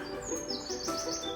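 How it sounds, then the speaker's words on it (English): Birds sing in the English countryside in the morning, with bright rising and falling chirps and tweets repeating over a soft outdoor background, close and clear with no voices. "listening to the birds singing"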